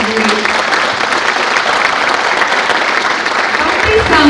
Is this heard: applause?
yes